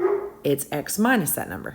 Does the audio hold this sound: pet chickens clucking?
no